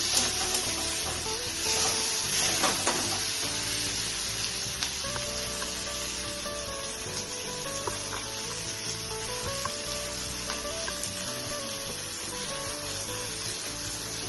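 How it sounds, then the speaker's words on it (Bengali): Prawns frying in a pan for a Bengali poppy seed prawn dish give a loud, dense, continuous sizzle and hiss close up, with occasional stirring scrapes and no voices throughout. "ফ্রাই করে নিচ্ছি।"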